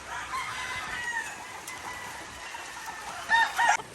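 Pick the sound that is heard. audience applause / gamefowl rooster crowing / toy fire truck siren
gamefowl rooster crowing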